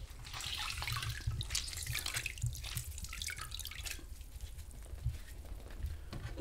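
Clean water is wiped and rinsed over a cot's surface with a wash leather before painting, giving close, wet trickling and dripping with small splashes throughout.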